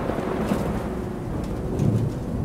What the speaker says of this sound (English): a peal of thunder shatters the stillness, followed by a howling wind that shakes the tower to its foundations